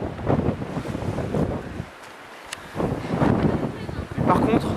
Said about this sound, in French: on est vraiment face à la mer avec tout ce vent